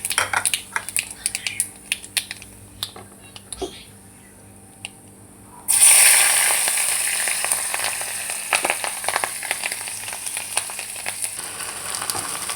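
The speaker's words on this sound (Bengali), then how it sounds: "তো কড়াইতে তেলের মধ্যে একটু কালো জিরে আর নুন হলুদ দিয়ে দিচ্ছি।" Black cumin, salt and turmeric hitting hot oil in a wok: a quiet stretch of light ticks and crackles, then a sudden loud, bright sizzle that keeps hissing and popping steadily up close, with no talking.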